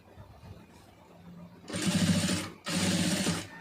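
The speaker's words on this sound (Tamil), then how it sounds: "கரெக்டாக அந்த கேப்லேயே போட்டுருங்க தையல் வந்து" Sewing machine stitching piping onto fabric, running in two loud mechanical bursts of rapid, steady needle chatter separated by a brief pause, close by, with soft talk before the machine starts.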